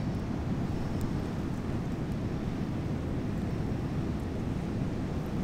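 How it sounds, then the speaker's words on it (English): Steady, roaring wind buffets the microphone on an open beach beside a Mitsubishi Delica 4x4 campervan. The noise is dense and constant, with no break or voice. "Sounds like it's gale force out there, but it's actually just kind of breezy."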